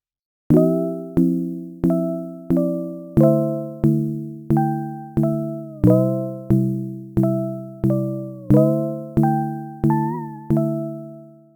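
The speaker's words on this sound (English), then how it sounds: "This sound here, which again is just a sine wave with some white noise." A soft sine wave synth tone with a breathy white noise attack plays evenly spaced notes, each fading quickly, a steady rhythmic pattern on its own.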